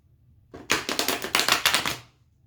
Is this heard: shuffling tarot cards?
yes